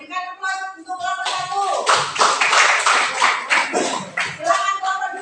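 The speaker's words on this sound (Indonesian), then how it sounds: "Berikan aplaus untuk kelompok" An audience claps for a presenting group at a teacher-training class session, with bursts of applause rising and falling and a voice speaking before and during it.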